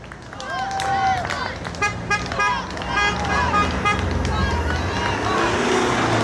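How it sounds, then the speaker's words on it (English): Car horns toot repeatedly at a street protest in the UK, short honks rising over crowd babble and passing traffic, with voices talking throughout. "just honk your horn."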